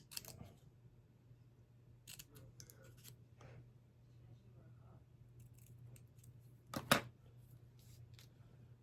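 Scissors snip through paper for a handmade fall card in a few quiet, separate cuts against a low steady hum, with one sharper snip standing out.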